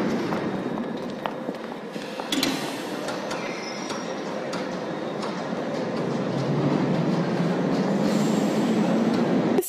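Piccadilly line Underground train on the London Underground running toward Covent Garden, a steady rumbling roar that builds gradually, with metallic clicks and brief wheel squeals on top.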